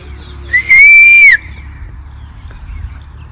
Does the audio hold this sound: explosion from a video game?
no